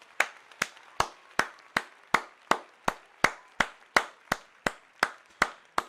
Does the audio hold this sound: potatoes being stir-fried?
no